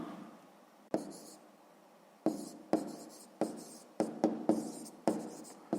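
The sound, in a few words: writing a math solution by hand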